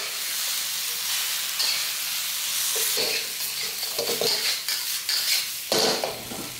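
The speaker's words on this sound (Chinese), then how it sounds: "炒菜的话，可以调到大火来炒" Cabbage and long beans stir-fry over high heat for a Malaysian vegetable curry, giving a loud, continuous sizzle and hiss broken by scraping, clattering strokes of a utensil against the pan, with no voices.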